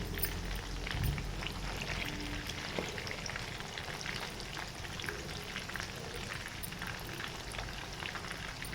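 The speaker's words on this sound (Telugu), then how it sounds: "మీడియం ఫ్లేమ్లోనే మనం ఫ్రై చేసుకుంటూ ఉండాలండి" Chicken leg joint pieces frying over a medium flame, a steady dense crackle and spatter of hot oil that runs on evenly throughout, close and fairly loud, with no voices.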